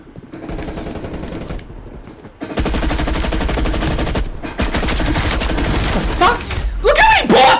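Rapid automatic gunfire in a Call of Duty match, loud sustained bursts broken by brief pauses, with game sounds rising near the end.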